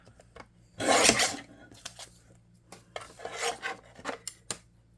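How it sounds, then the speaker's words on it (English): A paper pocket made from a junk mail envelope is trimmed, with close rasping cuts in short bursts and a few sharp snips between quiet pauses. "So we'll just trim it down here."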